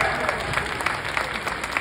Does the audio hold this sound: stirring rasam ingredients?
no